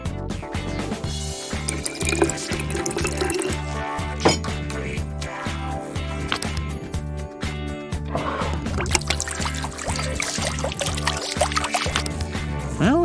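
Water pours and trickles steadily from a pet water bottle fountain, splashing and gurgling continuously under upbeat background music.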